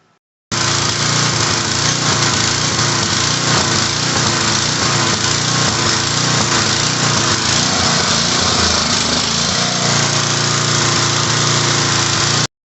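A Powerback 5250 generator with a Tecumseh engine runs loud and steady close by, its drone wavering in a slight surge from carbon buildup, with no talking over it.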